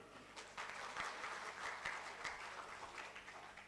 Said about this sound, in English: I request the audience to please have a round of applause for all of them